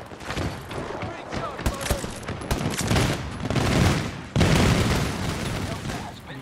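Rapid gunfire in a video game, dense bursts of automatic shots and booms rattling continuously at close range, with excited voices talking over the shooting.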